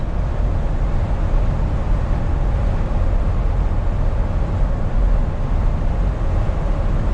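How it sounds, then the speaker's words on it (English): Inside a 2022 Ford Bronco Wildtrak two-door on the move, loud all-terrain tires produce a steady, dense rumbling drone of road noise that fills the cabin evenly, with no voices. "Tires are all-terrain tires, and they are loud and noisy also."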